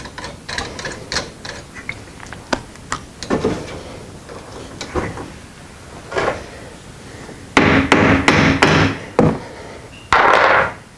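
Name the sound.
hammer tapping pipe coupling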